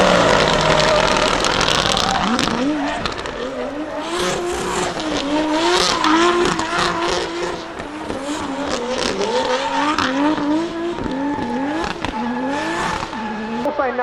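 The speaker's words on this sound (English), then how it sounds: "This is the GRC to drift with Cali Rosentera" GRC car driven by a rally driver drifting at the Goodwood Festival of Speed, its engine revving hard and swinging in pitch with tire squeal, loud and continuous under a commentator's voice.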